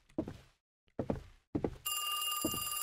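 A telephone starts ringing in a PC horror video game after a few dull thuds, holding as a steady, bright electronic ring to the end.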